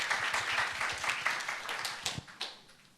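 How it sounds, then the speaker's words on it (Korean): An audience at a Jeju Forum session on 4·3 and peace education applauds to welcome a professor, giving brisk, fairly close clapping that gradually thins and fades by the end. "박수로 환영하죠."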